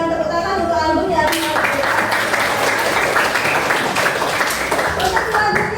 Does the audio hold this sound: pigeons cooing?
no